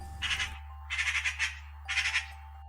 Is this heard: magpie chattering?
yes